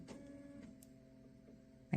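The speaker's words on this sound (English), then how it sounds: "My printer's going off." A printer runs quietly nearby, giving a low steady mechanical hum with faint tonal whirring and a few soft clicks, ending in a short louder clunk.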